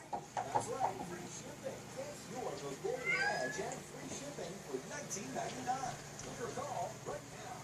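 A recorded cat meow plays quietly from an Alexa smart speaker, a few short rising mews mixed among nearby voices talking in a room.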